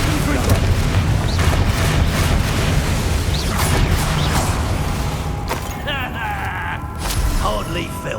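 Confringo fire spell blasting in the Hogwarts Legacy video game, a dense continuous rumble of explosive impacts and crackling effects during a battle, with game characters speaking over the din.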